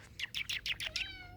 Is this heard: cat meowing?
yes